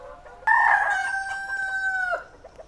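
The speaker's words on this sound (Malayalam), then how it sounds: "ഇത് കരിങ്കോഴിയിലെ പെട്ടയാണ്" A black Karinkozhi chicken gives one loud, close, drawn-out crowing call lasting under two seconds, with nothing else around it.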